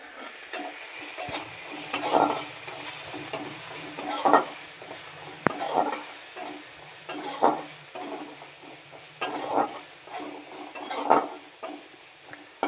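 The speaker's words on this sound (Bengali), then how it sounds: "দেখো কাঁচা লঙ্কা দিয়ে আলু দিয়ে আমি সুন্দর করে একটু লাল লাল করে ভেজে নেব" Potatoes fry with green chili and black cumin, a low steady sizzle broken by regular rhythmic scrapes and clinks of a spatula stirring in the pan, roughly every two seconds, with no talking.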